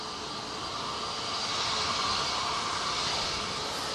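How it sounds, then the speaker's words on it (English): A Jet2 Airbus A321neo departs Manchester Airport during a storm, a broad, steady jet roar that swells slightly as it continues. "Jet2 A321 Neo next out."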